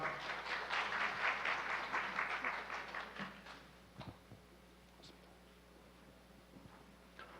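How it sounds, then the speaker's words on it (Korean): Conference audience at a security event breaks into loud sustained applause for a speaker, dense clapping that fades out after about three seconds, leaving a quiet room with a few scattered taps. "마지막으로 큰 박수 부탁드리겠습니다"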